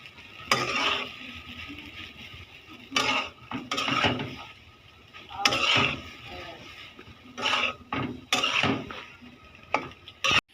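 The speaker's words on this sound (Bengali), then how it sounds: "এই তো নুডলসগুলো দিয়ে নিলাম নেড়ে চেড়ে নিই" Noodles being stirred and tossed in a pan for mixed chow mein, irregular bursts of metal scraping and clattering spaced by quieter pauses, fairly close.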